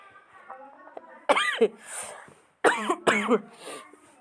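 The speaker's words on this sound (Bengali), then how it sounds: "তো আমার একটু কাশি পাচ্ছে আপনারা কিছু মনে করবেন না" A person coughs sharply in a home kitchen where beef curry is being cooked over a village clay stove: one loud burst, then a pause, then a quick pair of hard coughs, close to the listener.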